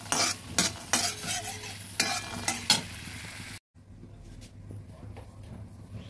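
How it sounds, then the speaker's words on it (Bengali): Peanuts dry-roasted in a pan without oil are stirred and scraped with a utensil, a close, rattling, gritty stirring that runs steadily for about three and a half seconds, then drops to a quieter, softer scraping. "বাদামগুলো ভাজা হয়ে গেছে, এবার তুলে নিচ্ছি।"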